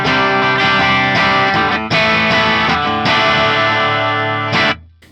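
A Tom Anderson electric guitar in split coil position, driven through an Axe Fx III FET drive, plays loud, sustained distorted chords and riffs with steady rhythm for about five seconds before cutting off abruptly at the end.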